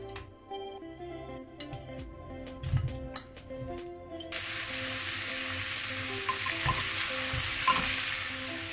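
Chopped cauliflower dropped into hot oil in a frying pan: a few clinks and stirring knocks, then a loud, steady sizzle that fills the rest of the clip, with no voices.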